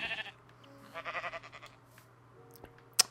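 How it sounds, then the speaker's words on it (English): Minecraft sheep give a few short, wavering bleats, clearest in a burst near the middle, over a quiet steady hum, ending with one sharp click. "find the sheep, shear the sheep"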